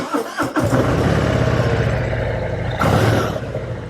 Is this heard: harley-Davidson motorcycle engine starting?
yes